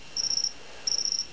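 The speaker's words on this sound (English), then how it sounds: "to make something that sounded like a cricket" A battery-powered electronic cricket generator built from three integrated circuits gives two bright, piercing synthetic chirps, each about a third of a second long with a short pulsed texture, clear and isolated.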